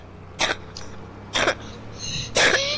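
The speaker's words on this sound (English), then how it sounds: "You'll probably cough a little." Three short harsh coughs from a character in a Fortnite roleplay, evenly spaced about a second apart, close and fairly loud over faint background hum.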